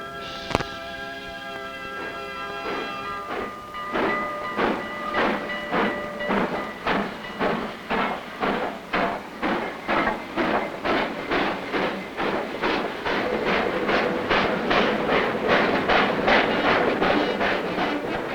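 A steam train chugs along the rails, a sharp whistle blast at the start, then rhythmic clattering puffs that quicken and grow louder as it passes close.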